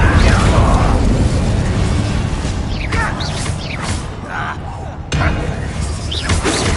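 The Incendio fire spell cast in Hogwarts Legacy: loud whooshing bursts and booming thuds of flame, with crackling impacts, one sharp hit partway through, and continuous heavy combat rumble underneath.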